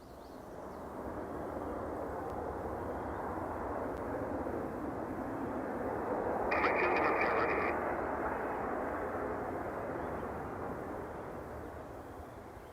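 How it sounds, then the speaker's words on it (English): An Air Canada airliner arriving from Toronto rolls out after landing at Edmonton International Airport, heard from a distance as a steady broad engine roar that swells slightly mid-way and then eases, with a brief radio beep. "that was Air Canada 173 arriving from YYZ. Just landed on."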